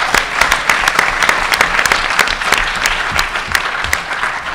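Loud, dense applause from a college audience after a debate's speakers, many hands clapping steadily throughout and easing slightly near the end.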